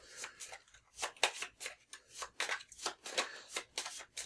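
A starting deck of cards from the DC Deckbuilding Game being shuffled close by, a quick series of crisp riffling and flicking bursts in an uneven rhythm with no talking.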